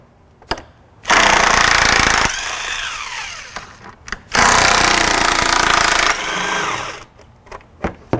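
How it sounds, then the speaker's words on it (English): Loud power tool on a 2015 Ford Mustang while removing two 10mm bolts during a radiator expansion tank install, running in two long sustained bursts with short pauses and clicks between. "Next thing I'm going to do is I'm going to remove the two 10mm bolts."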